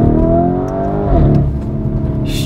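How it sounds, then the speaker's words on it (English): A Lamborghini Urus pulls hard in first gear, its engine note loud and close inside the cabin, rising steadily in pitch before easing briefly as the revs settle. "Let's try a little acceleration here."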